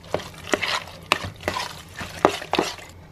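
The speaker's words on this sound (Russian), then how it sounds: "Снова все хорошо перемешиваем." Chicken mixture seasoned with dried dill is stirred up close, with about half a dozen rhythmic scraping and slapping strokes in quick succession.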